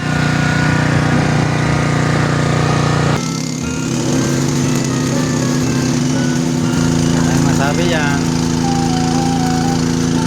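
A generator runs loud and steady during welding with a 7018 rod, its constant engine drone close by, with a shift in tone partway through and a voice speaking over it.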